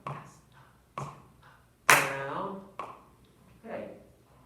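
Sharp claps and foot taps in a children's rhythm lesson land about once a second, five distinct hits with quiet gaps between, one blended with a spoken voice.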